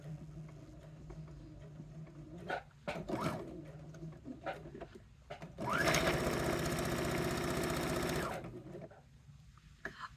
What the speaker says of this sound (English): I can use a stay stitch if your machine has a stay stitch